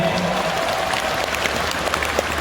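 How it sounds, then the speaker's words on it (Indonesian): Applause from a seated audience at a motivational seminar, dense and steady across a short burst with no voices on top. "Tepuk tangan buat Anda semuanya"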